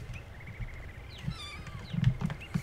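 A cat in the virtual world game Second Life gives a few short rising and falling meows at moderate volume during a haunted hunt in New Toulouse, over faint low background noise.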